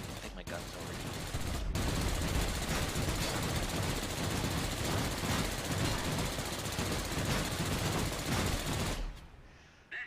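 An Fw 190V fighter fires its machine guns in World of Warplanes, a sustained, dense burst of rapid gunfire lasting about eight seconds over engine drone before it cuts off.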